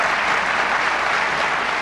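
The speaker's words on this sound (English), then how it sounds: "The polite applause for George Pataki's budget proposal today quickly turned hostile" Dense, steady applause from a crowd greets a governor's budget proposal at a New York event, a continuous wash of clapping with no voices.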